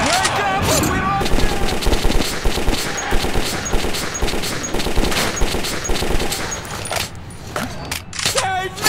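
Rapid automatic gunfire from a Metro 2033 battle in underground tunnels, loud and sustained bursts with metallic clatter, over shouting voices, tapering briefly near the end before another burst.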